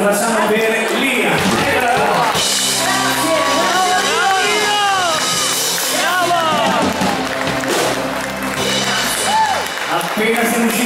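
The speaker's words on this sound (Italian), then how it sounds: "Signori, un bel applauso, lo facciamo per Lia." Festival audience at an outdoor frog festival with an orchestra applauds steadily, a dense wash of clapping mixed with cheers, whoops and crowd chatter, with sung or whistled tonal sweeps drifting over it throughout.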